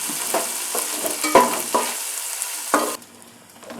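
Onions fry in a pan with a loud close sizzle and a few scraping stirs, the hiss cutting off abruptly near the end.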